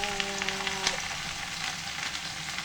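Kale and mushrooms frying in a pan give a steady soft sizzle with small crackles and pops, close and fairly quiet, with no voices.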